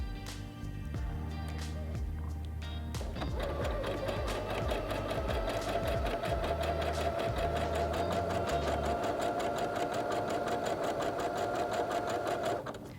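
A Heavy Duty HD6805C sewing machine runs a zigzag stitch, steady rapid mechanical whirring with needle clatter that starts after a short pause and keeps going at an even pace, close and loud, with no talking.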